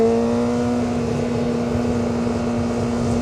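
A Yamaha R6 sport motorcycle engine droning at steady revs during clutchless shifting, a strong even tone with a buzzing harmonic edge and rushing wind noise, close and constant.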